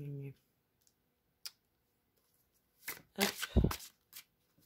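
Cards are handled during a card reading: a few isolated clicks and taps, then a quick flurry of shuffling near the end, close and fairly quiet.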